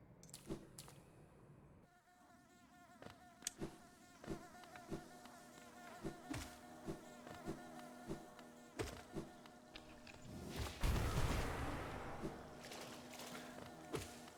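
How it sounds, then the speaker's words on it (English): Buzzing bees in the video game Hollow Knight, a droning insect hum under game music, punctuated by regular soft thumps like footsteps and a louder whooshing burst near the end. "Don't bother killing the bees unless they are in your way or you need the soul."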